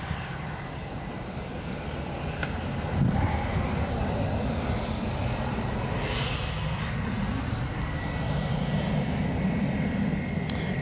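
A plane departing Gold Coast Airport produces a steady, broad engine roar that swells slightly as it climbs away, heard at moderate distance for about eleven seconds.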